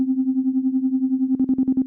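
A sustained synth tone runs through the rotor effect of the Things Motor iOS app driven by a triangle-wave LFO: a gentle rapid wobble that turns into sharper, more pronounced pulsing near the end.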